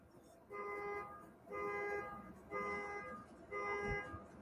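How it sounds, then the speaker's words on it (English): A car alarm going off outside, faint and distant, repeating a steady honking tone in four regular pulses about one second apart. "That fucking car alarm might have gone on for a long, long time."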